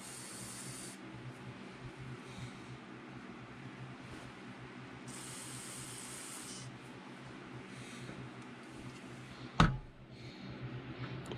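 A steady aerosol cleaner spray hisses continuously for several seconds onto carburetor parts from a McCulloch Mini Mac 310 chainsaw, then a sharp clatter near the end as the spraying stops.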